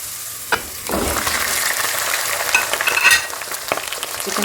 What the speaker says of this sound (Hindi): चिकन के साथ लहसुन का पेस्ट है, अदरक है, इसको हमने हल्की सी इसकी भुनाई करेंगे।